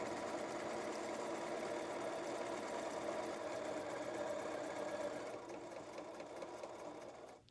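A sewing machine runs steadily while stitching a curved princess seam in fabric, a dense continuous mechanical whir close to the mic, easing off and stopping just before the end.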